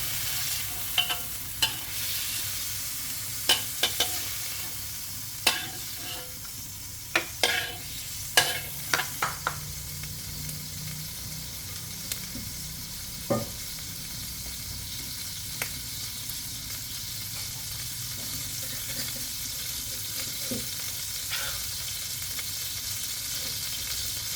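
Squid stir-fried in a pan, a steady close sizzle with bursts of quick spatula scrapes and clinks early on that thin out into a continuous frying hiss, with no talk.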